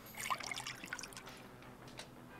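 Water poured into a coffee machine tank in the Deponia video game, a light close trickle with scattered drips that fades toward the end, soft and with no talking.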